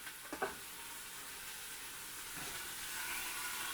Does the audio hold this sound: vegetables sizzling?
yes